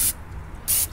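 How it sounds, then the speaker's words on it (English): Canola oil cooking spray fogged onto hot grill grates before burgers go on, two short, sharp hissing bursts at the start and end with a quieter gap between, close to the listener. "we use a little bit of cooking spray, canola oil, just fog it a little bit so it don't flame up."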